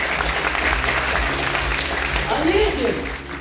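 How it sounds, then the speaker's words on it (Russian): An audience applauds in a large theatre hall, a steady wash of clapping throughout, with a voice and some crowd sound rising over it toward the end. "Ваши аплодисменты."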